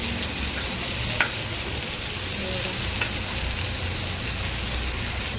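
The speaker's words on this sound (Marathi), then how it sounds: "मोठी आहे कोळंबी त्यामुळे थोडं थोडं फ्राय करायचं" Large prawns fry in a pan with a dense, steady sizzle and crackle that stays loud and even throughout, with a couple of faint clinks of stirring and no talking.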